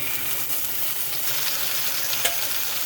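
Shrimp for fried rice fry in a hot pan with a dense, steady sizzle that holds evenly throughout, close and loud, with one brief scrape near the end.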